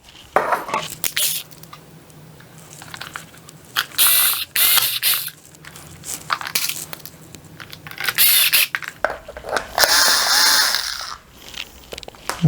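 A plastic lamp holder is twisted off and screwed back on, giving bursts of scraping, ratcheting clicks close by, separated by short pauses of quieter rustling.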